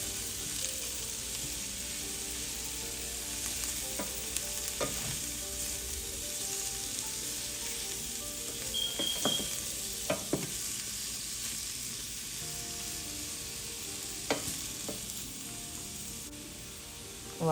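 Courgette and peppers cooking in reused frying oil over low heat, a soft continuous sizzle with occasional scraping stirs and clicks of a utensil, no talking.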